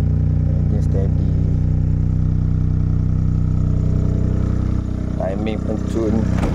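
A Perodua Kancil engine idles steadily after starting, a loud close rhythmic chug with someone speaking over it at times.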